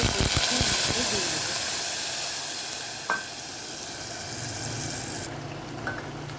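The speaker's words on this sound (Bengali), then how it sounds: "পেঁয়াজটা অনেকটাই ভাজা ভাজা হয়ে গেছে" Onion paste sizzling as it fries for a chicken rezala, a loud, dense, steady hiss close by that slowly eases and turns quieter near the end.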